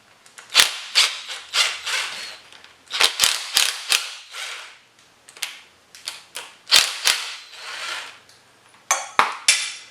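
Ratchet wrench clicking in repeated bursts while half-inch water pump bolts are backed out of a Jeep CJ7 engine, each run of rapid close clicks stopping and restarting over and over with short pauses between.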